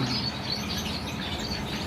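Exotic finches in a breeding setup twitter continuously, a dense chorus of small high chirps close by with no one talking.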